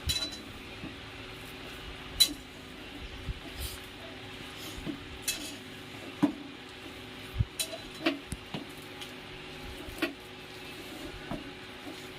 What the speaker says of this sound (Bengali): চলো এগুলো এবার মিক্স করে নেবো